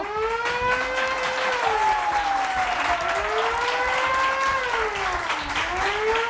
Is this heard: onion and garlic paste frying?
no